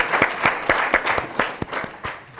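Applause from an audience for a schoolgirl, a close group of hands clapping in fairly regular, distinct beats, steady and fairly loud throughout.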